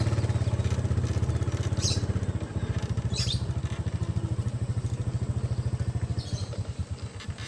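A motorcycle engine runs steadily at close range, its low rhythmic thrum pulsing evenly throughout with a few faint high clatters and rustles on top, and no speech.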